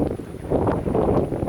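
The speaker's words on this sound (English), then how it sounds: "excuse the wind noise because it is windy here" Steady buffeting wind noise rumbles against the microphone at a lakeside campground, low and blustery with no other clear sounds.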